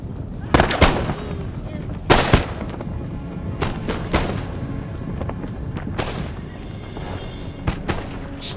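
Musket volleys and artillery fire in the strategy game Empire: Total War crack and boom at irregular intervals over a constant battlefield rumble, with several sharp, loud reports standing out against the din.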